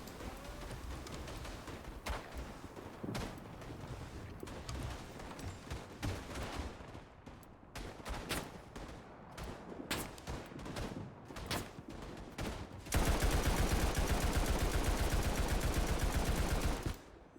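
Heavy machine gun fire in the World War I shooter Tannenberg: rapid bursts of gunshots crackle across a busy battlefield, ending in a long, loud, continuous volley at close range.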